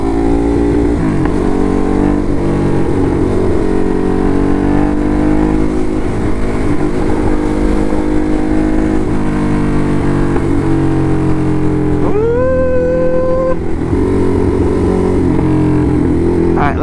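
Motorcycle riding down a highway and lane splitting through traffic, a constant loud engine drone with wind rush throughout and a brief higher whine of a passing vehicle near the end.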